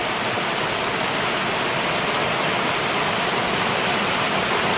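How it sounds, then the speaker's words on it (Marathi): Heavy rain pours steadily on a farm, a dense unbroken hiss filling the whole stretch without pause. "आता लई जमलं पाऊस"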